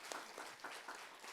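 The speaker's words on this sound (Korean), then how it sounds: "김광수 교수님 잠깐 소개해드릴 때 여러분 요 앞쪽에 계신데 잠깐 한번 일어나셔서 큰 박수로 환영해 주시면 좋겠습니다" An audience at a special evening prayer service applauds to welcome a visiting professor, with steady, dense clapping sustained throughout at moderate distance.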